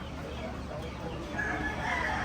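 Chickens, including a naked-neck hen, cluck and a rooster crows faintly amid a busy, noisy animal auction in California, growing slightly louder toward the end.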